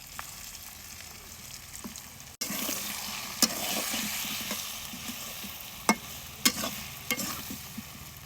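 Fried potatoes in hot oil sizzle softly in a pan as coriander, turmeric and chili powder and salt go in, and a spoon stirs and scrapes against the metal with a few sharp knocks between quieter frying.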